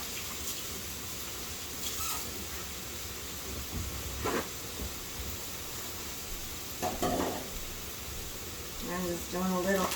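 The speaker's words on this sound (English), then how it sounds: "my food sits there and sizzles on nicely" Vegetables and tofu sizzling in soy sauce and butter in a pan, a faint steady frying hiss throughout with a few stirring scrapes and clinks near the end.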